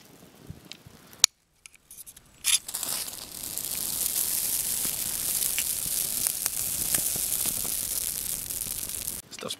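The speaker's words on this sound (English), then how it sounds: "it burns a lot longer than a regular flash tender does" Pampas grass tinder, lit with a ferro rod, burns with a steady, crackling, sizzling hiss that goes on for several seconds, after a few faint scrapes and a brief quiet gap.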